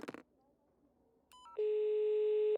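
A mobile phone rings close by after a short burst of speech: a few quick electronic beeps, then a steady sustained ringing tone that holds for about a second.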